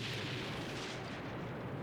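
A sustained, roaring film explosion from The Thing as rooms along a hallway are blown up, a dense broadband blast that stays loud and steady throughout.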